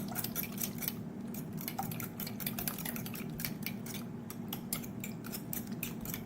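Quiche ingredients with a pinch of salt are stirred together in a bowl, a steady close run of rapid clinking and scraping strokes with no speech.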